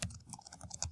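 Brief, faint tapping of keys on a computer keyboard, a handful of quick close clicks with no voice.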